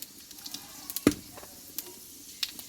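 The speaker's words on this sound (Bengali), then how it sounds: "তেলটা গরম করে নিয়েছি আগেই এই তেলে দেবো হাফ চামচ মতো পাঁচফোড়ন" Half a spoon of panch phoron hits hot oil and gives quiet, scattered crackles with one sharp pop in a soft sizzle.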